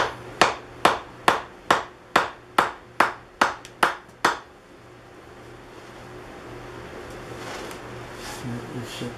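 A chisel is struck with a mallet about eleven times in a quick, even rhythm to split apart a glued wood-turning joint, sharp close knocks with no talk, followed by a faint hiss of room noise.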